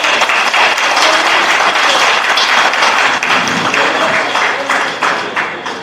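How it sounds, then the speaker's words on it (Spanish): Church congregation applauding, a dense, loud wash of many hands clapping together that keeps going steadily and then tapers off toward the end. "Denle un aplauso al Señor."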